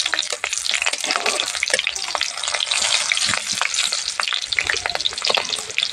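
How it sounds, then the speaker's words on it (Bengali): Four slit green chillies dropped into hot oil for egg chowmein, giving a dense, continuous sizzle and crackle with sharp spattering pops, close and steady, alone without voices. "তেলটা গরম হয়ে গেছে, দিয়ে দেবো 4টি চেরা কাঁচা লঙ্কা,"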